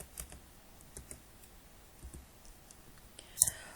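Quiet computer keyboard typing as text is entered into a shape on a slide, scattered soft key taps with a sharper click near the end.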